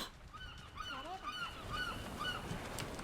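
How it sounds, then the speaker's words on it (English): Several seagull calls from Minecraft honk and squawk repeatedly at a moderate distance over a low background rumble. "Look, can you hear the seagulls?"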